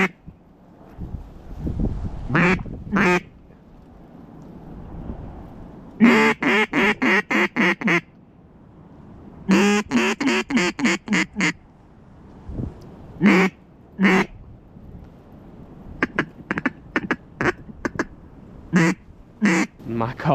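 Quacking duck call blown by a hunter in freezing late-season conditions on public land, sounding in repeated bursts of rapid quacks with pauses between sequences, close and fairly loud.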